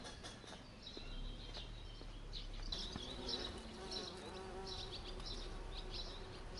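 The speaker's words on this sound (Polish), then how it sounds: "Look how many bees." Many bees buzz continuously at close range, a dense droning hum with individual insects swelling in and out, faint birds chirping far behind, near jasmine by a Renaissance church.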